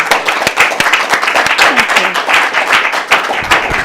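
A crowd claps steadily and loudly nearby, many hands blending into dense applause with a few voices mixed in.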